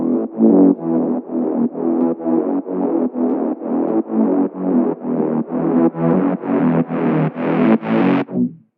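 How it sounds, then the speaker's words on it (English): A distorted synth in a tech house track plays a rhythmic run of short stabs as its filter cutoff is automated upward, the tone growing brighter and rising in pitch with each hit before cutting off sharply at the end. "you're going to automate the cutoff up to add a really nice rising synth effect"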